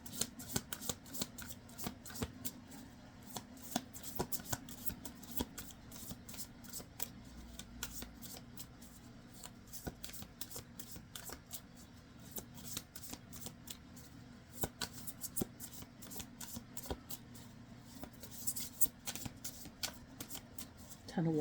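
Tarot cards being shuffled by hand, a continuous crisp riffling and slapping that runs the whole way at moderate loudness, with a voice talking quietly underneath.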